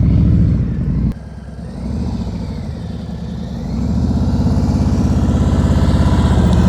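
A motorcycle engine runs steadily close by during slow-speed riding practice, a continuous low throbbing idle with a brief dip and then a gradual rise as the throttle is held up.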